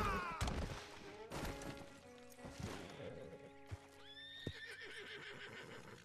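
In Red Dead Redemption 2, a horse neighs and whinnies after crashing into a tree, with hoof clip-clops and thuds around the calls and a speaking voice faintly underneath.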